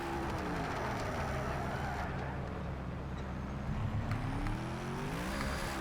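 Hennessey Venom F5 with a 6.6-litre V8 in the Project Cars 3 racing game, a continuous engine drone with rising and falling pitch sweeps as it revs and shifts, steady and fairly loud throughout.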